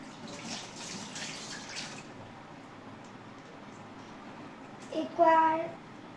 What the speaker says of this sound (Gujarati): એકવાર આપણે નળના પાણીથી ધોવાનું